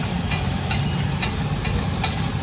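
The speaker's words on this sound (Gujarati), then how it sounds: "આપણી આદુ લસણની પેસ્ટ નાખવામાં આવે પહેલાં એને બરાબર તેલમાં શેકવાનું આવે" Ginger garlic paste fries in peanut oil at a roadside restaurant kitchen, giving a steady close hiss and crackle with a few brief sharp pops.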